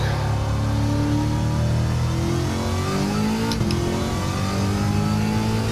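A supercharged Chevrolet C8 Corvette of about 1,000 horsepower accelerates hard on a track lap, its loud, close engine droning continuously with a steadily rising pitch.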